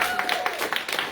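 An audience at the Black Media Mixer gathering claps together in a brief, scattered burst of applause, with a faint steady tone beneath the hands.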